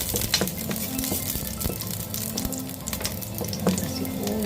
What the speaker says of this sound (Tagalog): So ngayon, igisa natin ang ating bawang.